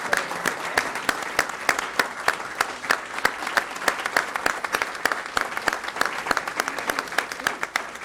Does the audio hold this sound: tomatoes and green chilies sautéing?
no